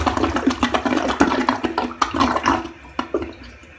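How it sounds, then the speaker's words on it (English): A toilet on a clogged sewer line flushes with a steady rush of water, ending in gurgling bursts as air blows back up through the drain, close and fairly loud with no talking. "when you flush the toilet, it blows back air at the end like this."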